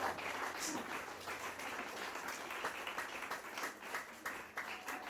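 Church congregation applauding during a French-language sermon, a steady wash of clapping hands mixed with voices calling out, moderately loud and continuous throughout.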